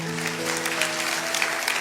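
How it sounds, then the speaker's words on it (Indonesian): Applause from a church congregation fills the space as an even, continuous patter of many hands at moderate level, with a sustained musical tone underneath. "kasih tepuk tangan untuk Tuhan"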